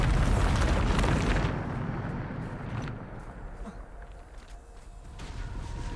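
Bombarda spell explosion in Hogwarts Legacy, a loud burst and rumbling boom that fades over a few seconds, with a voice shouting the spell's name.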